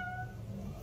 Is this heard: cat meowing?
yes